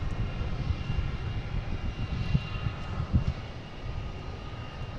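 Alaska Airlines jet airliner lining up on runway 4 right at Boston Logan airport, a distant low engine rumble with steady broadband roar and faint pulsing, no voices.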